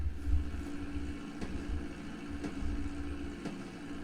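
A small aircraft's engine in Grand Theft Auto V flight training drones steadily at a low pitch, with faint regular ticks every second or so and no voices.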